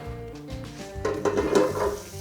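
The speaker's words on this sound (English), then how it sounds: "Oh, sizzle." Fries sizzle steadily in hot oil, the hiss growing louder midway with a bright crackling fizz, alongside some harmonic background tones.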